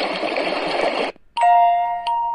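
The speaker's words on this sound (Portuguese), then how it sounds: "Aqui é som de água." A Bluetooth astronaut night lamp plays a steady rushing water sound for about a second, which cuts off and gives way to bright electronic chime tones.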